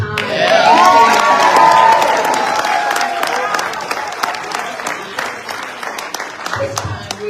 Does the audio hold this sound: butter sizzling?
no